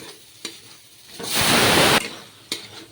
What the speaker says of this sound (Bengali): টমেটো দিয়ে দিয়েছি এবার নেড়ে চেড়ে আরেকটু ভেজে নেবো